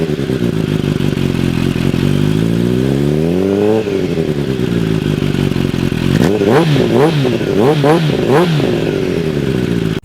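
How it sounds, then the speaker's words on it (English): Kawasaki H2 factory-turbocharged motorcycle engine revving loudly and close: a long rising rev, a brief drop, then a series of sharp repeated throttle blips, with the engine's harmonic whine climbing and falling throughout. "this video wouldn't be complete without a sound check of the mighty H2"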